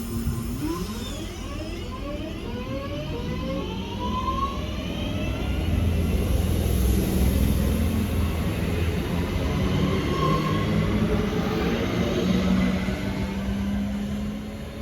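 A Northern passenger train on the Crewe to Manchester Piccadilly service rumbles past steadily, with a low rolling drone and rising tonal whine from the wheels and motors, heard alone without talk.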